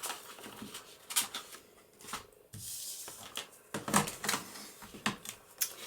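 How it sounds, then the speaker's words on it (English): A pocket is cut out of papercraft paper for a folio, with a quick series of crisp snipping clicks in uneven bursts, near and fairly loud, with no talking. "we can cut a pocket out of that"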